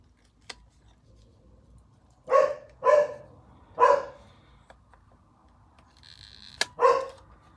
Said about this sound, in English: She always starts about 3 o'clock with the barking.